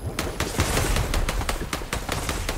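Rapid automatic gunfire rattles through a Fortnite Zero Build match, a dense string of sharp, close shots in quick rhythmic bursts with no talk.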